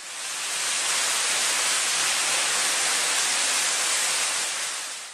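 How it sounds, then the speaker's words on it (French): A 20-metre waterfall at the entrance to a canyon roars as a steady, dense wash of broadband noise, loud and unbroken throughout. "L'entrée dans le canyon se fait en descendant une cascade de 20 mètres de hauteur."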